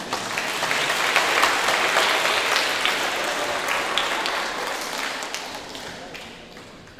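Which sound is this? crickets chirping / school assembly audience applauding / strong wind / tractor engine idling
school assembly audience applauding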